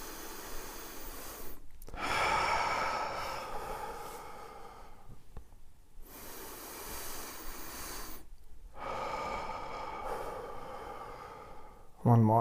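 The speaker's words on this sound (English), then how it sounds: "So let's take a couple deep breaths together." During a guided meditation, slow deep breaths are drawn and released close to the microphone, a few long airy inhales and exhales separated by brief pauses.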